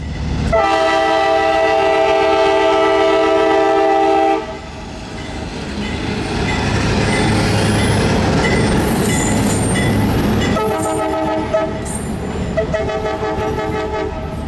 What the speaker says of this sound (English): I was just in time to find the weekday morning road train moving east